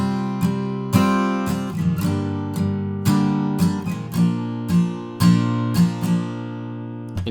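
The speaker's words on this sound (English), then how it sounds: "the simple strumming pattern just goes like this: down, down, down, down, up." An acoustic guitar plays a steady strummed pattern of four downstrokes and one upstroke, each chord ringing out clearly and close, repeated alone without any voice.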